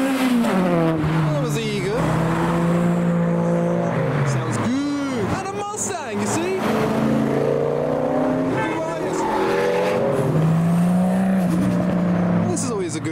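Cars arrive at a UK car meet, engines revving and passing close by with loud, sustained roars and a rising acceleration, while people talk over the engine noise throughout.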